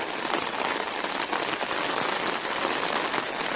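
Heavy rain pours steadily onto a surface, a dense, continuous hiss of drops with no pauses, loud and close throughout.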